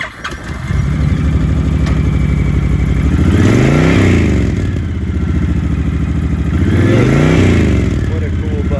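A 2019 Honda Fury 1300cc factory chopper motorcycle engine runs loud and close, rising and falling in two distinct revs over a rumbling idle.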